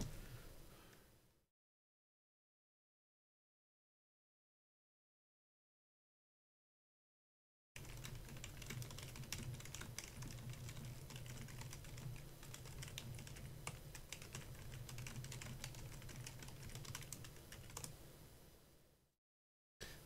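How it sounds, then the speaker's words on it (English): Fast, dense typing on a computer keyboard clatters continuously for about eleven seconds after a stretch of silence, close and steady, with no talking. "So let me just get my keyboard up here."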